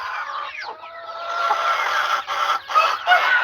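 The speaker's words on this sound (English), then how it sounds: "I'm not sure why my birds are so loud right now" Farm chickens clucking loudly and close by, overlapping calls with a longer drawn-out cry near the start and sharper clucks toward the end, no voices.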